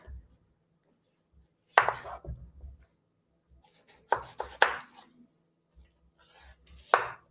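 A knife chops cucumbers on a cutting board in a home kitchen, a few scattered bursts of close knocking strokes separated by pauses, with faint background rustle.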